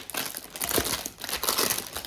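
Small piece of packaging paper crumpled up close during an unboxing, a few quick crinkling bursts with short pauses, no voices over it.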